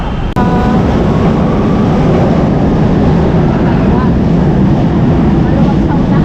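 An LRT train rolls along with a loud, steady rumble and rushing noise close by, broken only by a short knock at the start.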